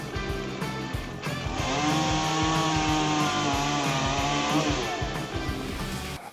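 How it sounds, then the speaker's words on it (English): A Stihl MS-881 chainsaw cutting a tree revs and bogs, the loud buzzing rising and holding steady, then dropping back to a rough idle. "This has helped the Stihl MS-881 to become an effective assistant in completing heavy work"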